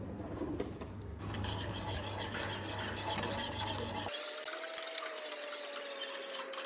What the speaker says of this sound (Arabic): وغادي نديروها في الطبوطه ونبقاو نحركو